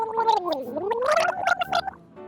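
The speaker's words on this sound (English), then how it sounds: "Olive took a big sip of the mouthwash and gargled loudly." Loud, bubbling gargling of mouthwash by a cartoon ostrich fills the moment, with a wobbling pitch that dips and rises again before trailing off into short bursts.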